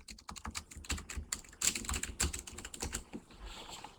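Rapid typing on a computer keyboard, a dense run of close, crisp key clicks with uneven rhythm and a few harder strokes, heard alone without any voice.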